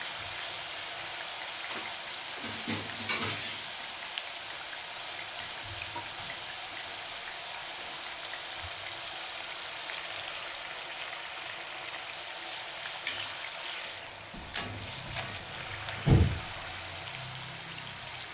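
Chakali fry in plenty of hot oil, giving a steady, soft bubbling sizzle throughout, fairly quiet and close, with a few small clinks near the end.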